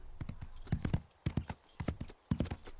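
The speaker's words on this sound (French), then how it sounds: "C'est juste un cheval." Hooves of a horse clip-clop in an uneven rhythm, about a dozen crisp, close knocks arriving in quick clusters with brief pauses between them, clear and fairly loud.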